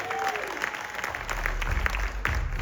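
A New York crowd at a boxing weigh-in cheers and claps for a fighter, with loud, dense applause and shouts that swell and carry on throughout.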